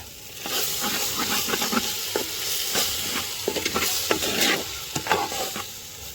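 Squid being fried and stirred in a pan for a Jaffna-style village curry: a steady close sizzle with repeated scraping stir strokes throughout, no talking.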